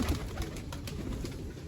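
Soft, low tumbler pigeon coos murmur close by, repeating in a gentle rolling rhythm over faint background noise.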